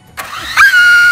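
A broken toy drone's small motors spin up after being switched on, a sudden click followed by a rising, steady high-pitched whine close to the listener.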